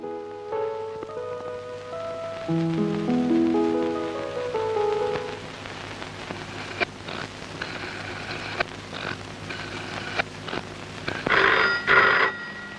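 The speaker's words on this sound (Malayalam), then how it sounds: "രജനി, ചേട്ടനായിരിക്കും, ഫോൺ എടുത്തു." A telephone rings repeatedly in a steady pattern, fairly close and clear, while rain patters in the background; no one speaks.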